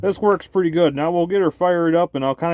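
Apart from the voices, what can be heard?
None of the usual background noises is heard.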